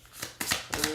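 Tarot cards slide and flick from a deck in three quick, close papery swishes, each rising and falling within a second.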